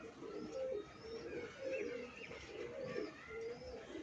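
Ferozpuri pigeons cooing close by, low throaty coos repeating in a steady rhythm across the whole stretch, with faint chirps above and no talk.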